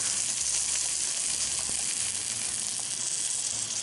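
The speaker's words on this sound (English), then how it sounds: "we're going to add the coconut milk" Coconut milk poured into a hot cooking pot sets off a steady, loud sizzle and hiss that stays even for a few seconds, with no voices.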